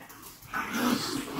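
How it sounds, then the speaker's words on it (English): Several dogs growl and grumble inside a garage workshop, a low rumbling snarl that swells and stays steady for a moment, fairly close with no talk over it. "Dogs are going crazy as usual."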